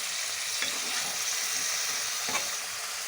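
Fish for a tangy-sweet small rohu curry frying in a pan, a steady close sizzle running throughout with a few soft stirring scrapes and no talk.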